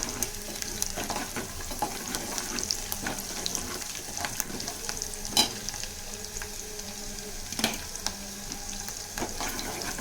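Onions frying in a pan for a Telugu home-style tomato dal, a steady close sizzle with frequent sharp crackles and stirring clicks, no talking.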